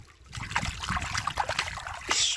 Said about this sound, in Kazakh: Суға батырып көрейік крузерді.